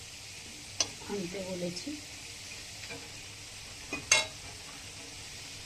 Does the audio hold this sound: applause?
no